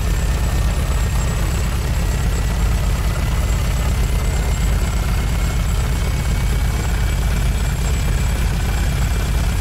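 Chaingun from a video game mod, firing as a seamless loop: a dense, constant mechanical roar with a heavy low rumble, loud and unbroken, with no voices.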